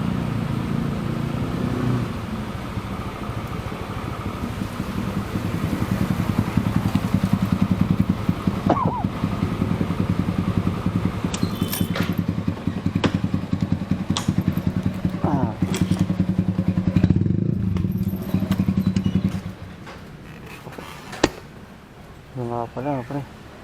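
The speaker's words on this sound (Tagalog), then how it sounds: "Ang lakas itong NMAX." Yamaha NMAX scooter with unreliable brakes, engine running while riding through Caloocan City streets; a steady, fairly loud motor drone continues with someone talking over it, easing off near the end.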